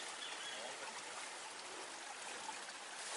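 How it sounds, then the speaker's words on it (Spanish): River water rushing steadily down over rocks below a waterfall pool, a continuous full hiss of flowing water, close and loud with no talking. "Todo lo que es esta bajada de agua"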